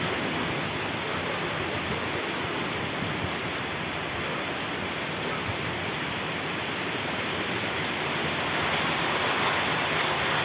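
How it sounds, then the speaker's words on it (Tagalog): Heavy rain and strong wind from Typhoon Aghon lashing the coast at Real, Quezon, with waves surging nearby: a loud, dense, unbroken roar of rain and gusts that holds steady throughout and swells slightly toward the end. "Grabe oh, ulan oh, ang hangin oh, tawang alon."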